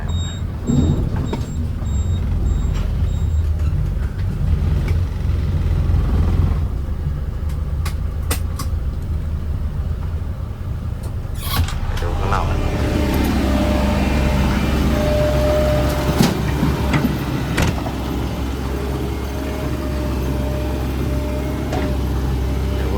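A Deca dump truck hauling soil rumbles with a steady, heavy engine drone, with clunks and a rising whine as it is shifted into reverse on a narrow track, heard from inside the cab.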